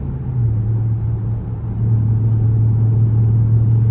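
A steady low exhaust drone from a Dodge Charger while accelerating, holding a constant deep hum that dips briefly and then settles back in, with no voices.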